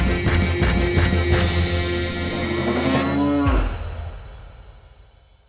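A cartoon bull lets out a loud, drawn-out moo that slides downward near the end, following rhythmic music and fading into quieter background sound.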